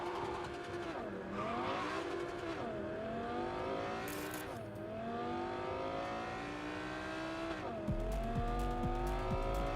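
A race car engine in The Crew 2 on PS5, a Turbo RB Tech build, revs and shifts through rising gear sweeps with tire noise, loud and continuous, a brief hard thump near the end.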